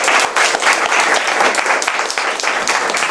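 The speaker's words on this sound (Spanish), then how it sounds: "vamos a recibir a Rodrigo con un gran aplauso" Steady applause from a lecture audience fills the room, a dense continuous patter of many hands clapping at close range.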